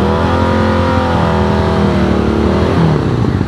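A 600cc Japanese motorcycle engine revs hard and steadily on a hill climb, loud and close, its pitch rising and falling with the throttle for several seconds without pause.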